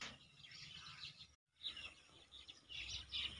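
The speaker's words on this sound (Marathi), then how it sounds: "सकाळ सकाळची चिमण्यांची आणि पक्ष्यांची किलबिलाट पाहू शकता" Sparrows and other birds chirping and twittering steadily in the morning outdoors, a continuous bright chorus of small bird calls at moderate level with a brief pause.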